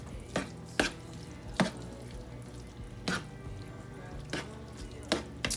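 Cooked chicken being stirred into a one-pot fiesta chicken and rice, with sporadic soft wet scrapes and spoon taps against the pot, close by and with no talk.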